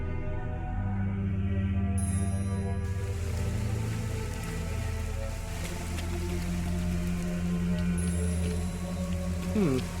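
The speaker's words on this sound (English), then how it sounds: "It's rainy." Steady rain falls in Fallout 4, a continuous patter and hiss over a low droning ambient hum, with a brief rising tone near the end and no talking.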